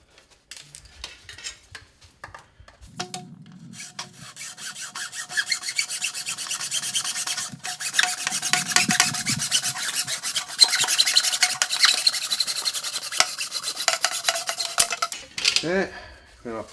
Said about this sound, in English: okay, clean off the burrs.